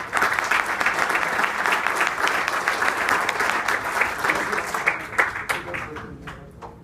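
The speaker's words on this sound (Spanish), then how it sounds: "pedimos un aplauso" A conference audience breaks into sustained applause, dense steady clapping from a crowd in a hall that gradually thins and tapers off toward the end.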